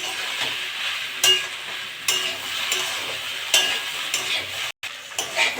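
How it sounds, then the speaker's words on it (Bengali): Okra and potato pieces being stirred as they fry in a pan with salt and turmeric, a continuous sizzle broken by several sharp scraping strokes of a spatula close by, with no talking. "ভালো করে নেড়ে চেড়ে নেবো"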